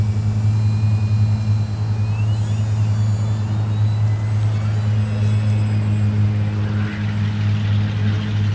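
E-flite F4U-4 Corsair 1.2 m RC model airplane taking off with one notch of flaps, its electric motor and propeller giving a loud, steady drone with a rising whine throughout.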